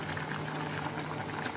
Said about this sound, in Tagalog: Ayan, kumukulo na po siya.